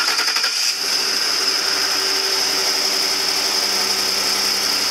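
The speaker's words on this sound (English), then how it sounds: "go ahead, Tim, fire the bitch up" A Ford F-150 engine catches right after a starter replacement, then settles into a steady, loud, close idle with a high whine.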